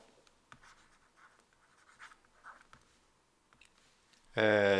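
A pen scratches across a page in short, quiet strokes and taps, faint and close, before a loud voice abruptly cuts in at the end.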